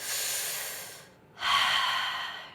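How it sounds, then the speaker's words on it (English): Deep yoga breaths during a morning posture flow, one long airy inhale, a brief quiet pause, then a full steady exhale, close and clear with no talking. "Big breath in. Exhale."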